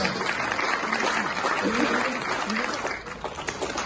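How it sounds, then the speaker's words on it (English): A crowd claps continuously in a dense, steady wash of applause with a voice speaking faintly underneath before it tapers off. "A big round of applause."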